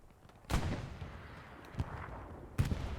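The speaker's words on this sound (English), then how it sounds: "That was a last minute nade by Vidar, I think. On the outpost." Sharp grenade blasts on an outpost in the Hell Let Loose video game, three separate booms spaced across a few seconds over a quiet, rumbling battlefield background, fairly faint overall.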